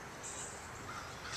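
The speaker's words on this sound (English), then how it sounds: "Oh, it's a crow." A single crow caws faintly in the distance over a steady outdoor forest hiss, brief and quiet.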